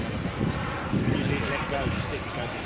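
A roaring, rushing model jet engine afterburner blast, from a 1/5 scale RC English Electric Lightning F2A burning kerosene, runs steadily throughout, loud and broadband, with a voice talking over it.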